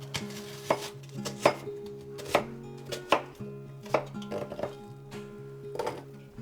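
A knife chopping cabbage on a cutting board, with about a dozen crisp, close thuds in an uneven rhythm, some coming in quick pairs, and no voices.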